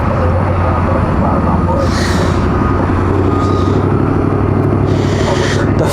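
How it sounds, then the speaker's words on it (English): Jet aircraft around DFW airport heard from Founders Plaza at night as a loud, steady engine roar and rumble that fills the whole stretch, with a few brief hissing swells on top. "I can hear the planes here at Founders Plaza loud and clear from both ears"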